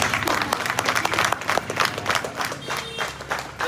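Applause from a small crowd at the opening of a new franchise wellness centre in Haldwani, steady close clapping throughout with a voice faintly underneath.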